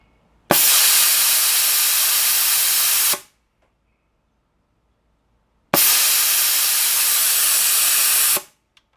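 Two long, loud bursts of compressed air hissing from a pneumatic valve on an animatronic under restoration, each lasting about three seconds with a clean stop and a silent gap between.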